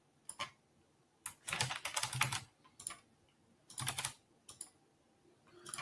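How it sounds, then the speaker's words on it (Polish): Typing on a computer keyboard comes in bursts of quick, close key clicks separated by short pauses, alone and fairly quiet. "na początku musimy jeszcze wpisać odpowiedniego prompta"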